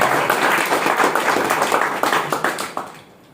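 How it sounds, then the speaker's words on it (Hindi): Audience applause at a motivational business talk, a dense crowd clapping steadily and fairly loud, then thinning out and fading toward the end. "जबरदस्त तालियां।"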